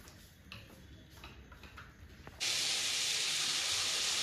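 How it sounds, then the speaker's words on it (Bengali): Chicken frying in a pan: soft ticking and faint clicks at first, then a sudden loud, continuous sizzling hiss that takes over and stays steady to the end. "এখানে চিকেন ফ্রাই হচ্ছে"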